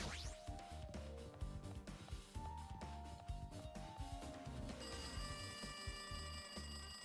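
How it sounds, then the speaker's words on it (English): A telephone rings in the video game Danganronpa 2, with repeated electronic ring tones layered over busy game music, fairly faint throughout and without any speech. "Oh yeah, that's the phone."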